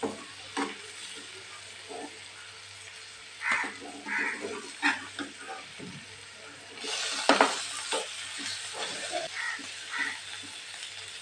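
Fish pieces sizzle and fry in oil in a pan, a steady crackling hiss with scattered pops and a few louder bursts of spattering, close up and with no voices.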